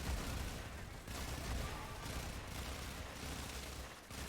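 Sustained heavy gunfire in the sci-fi shooter Warframe, a dense, continuous roar of overlapping shots and blasts, loud and close, with no talking.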